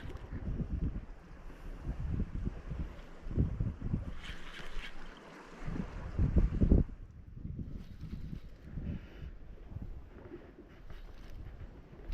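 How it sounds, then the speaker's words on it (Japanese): Wind gusting across a deserted island on a fishing camping trip, a steady broadband rush with bursts of microphone buffeting and a faint background of water, with no talking. "風吹いてきたね。"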